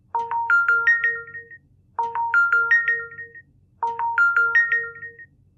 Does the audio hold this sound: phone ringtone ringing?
yes